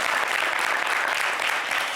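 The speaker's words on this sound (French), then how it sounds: "applaudissez Caprice" Studio audience at a French television talk show bursts into steady, dense applause, a loud continuous wash of many hands clapping with no voices on top.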